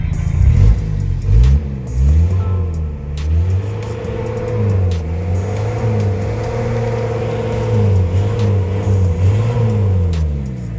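A Toyota 2C diesel engine with hard starting and low power revs up and down repeatedly during an RPM check, a loud, close rumble that rises and falls in steady waves with no talking.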